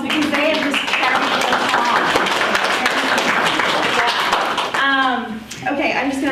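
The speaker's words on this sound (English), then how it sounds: "Can we give these guys a round of applause" An audience at a talk-show-style seminar bursts into sustained applause, a dense wash of clapping that fills most of the stretch before fading as a voice starts talking.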